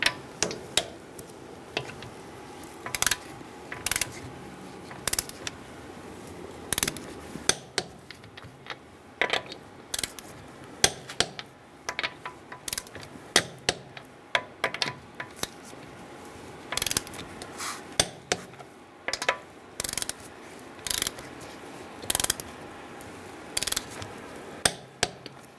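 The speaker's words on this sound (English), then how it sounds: "we are going to torque our wheels to 80 foot-pounds with a 21mm socket" A torque wrench tightens the front wheel lug nuts on a 2010-2013 Kia Soul with a 21mm socket, giving scattered bursts of crisp ratcheting clicks and ticks, close by and irregular, with quiet gaps and no talking.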